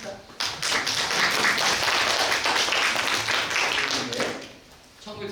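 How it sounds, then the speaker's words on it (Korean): An audience at a lecture on the Junggoje pansori tradition breaks into dense, steady applause for about four seconds, then fades out. "박수 한번 칩시다"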